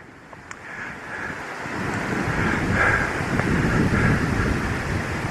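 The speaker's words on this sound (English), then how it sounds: "just trying to shield from the wind" Gusty wind buffets a microphone outdoors along a riverbank, a steady low rumble swelling louder after the first couple of seconds, with no talk.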